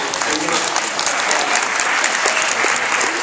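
Audience applause at a panel discussion on Israel, dense continuous clapping throughout, fairly loud and close.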